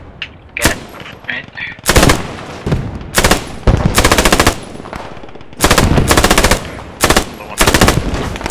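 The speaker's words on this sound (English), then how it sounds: "Just watch for the MG fire." An MG 34 machine gun in the World War II shooter Post Scriptum fires in loud, close bursts of rapid shots, separated by short pauses, with a few single shots in between.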